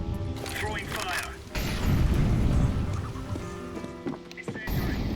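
An incendiary grenade thrown in a tactical shooter on a rainy night in Italy lands with a dull boom and then a steady roaring burn, with a player's voice talking over it.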